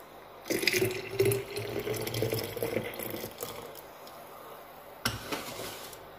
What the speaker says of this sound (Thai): นี่ค่ะเทใส่กระติกน้ำร้อนไว้จะกินนะคะ